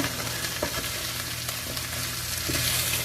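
Chicken and vegetables stir-frying in oil make a steady broadband sizzle, with light scrapes and stirring clicks scattered through it and no voices.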